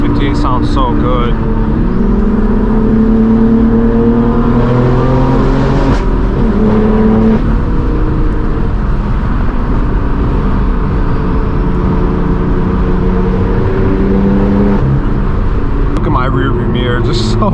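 A straight-piped BMW M4 G82 is driven along a road with a loud, continuous exhaust drone that rises and falls through gear changes and throttle shifts, heard from inside the car with talk over it.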